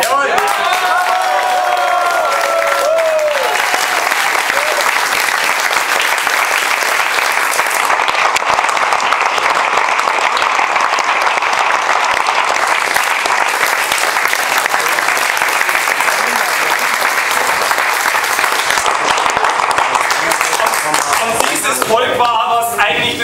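Sustained, loud applause from the crowd at an election party, a dense roar of clapping with some cheering that runs steadily throughout, with voices heard briefly at the start and end.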